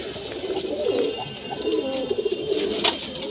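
A Tara pigeon, one of a breeding pair, coos in soft, low, rolling phrases that repeat steadily, with a few faint chirps from other birds in the background and no talking.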